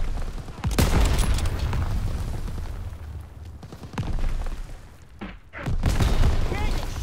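Call of Duty combat fills the scene with loud, continuous gunfire and booming explosions, with heavy blasts near the start and end, while voices shout orders underneath.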